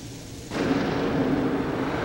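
A bomb blast in Zelda: Twilight Princess at a water temple entrance, a sudden loud boom bursting in after half a second of quiet and rolling on as a dense, sustained rumble to the end.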